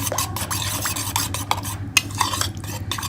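Yogurt with salt and chaat masala is whisked in a bowl, giving a fast, close, rhythmic series of wet slaps and spoon taps with a low hum underneath.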